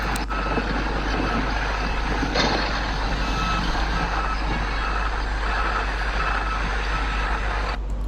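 Trucks reversing at an airport construction site, with a loud, steady vehicle rumble and repeated reversing beeps close by, with no talking.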